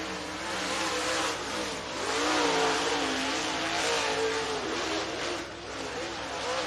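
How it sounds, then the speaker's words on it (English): Race cars lapping an oval raceway track during time trials at Duck River Raceway Park in Lewisburg, Tennessee, a loud continuous engine roar that swells and fades as they pass, with an announcer talking over it. "both those drivers on the racetrack coming around to get the green flag from Will Dykes"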